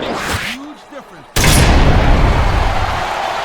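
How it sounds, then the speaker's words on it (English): A crowd roars and chants inside the WWE SmackDown vs. Raw 2007 wrestling video game, swelling suddenly into a loud, dense wash of noise after brief commentary speech. "Wow, listen to that chant, Taz."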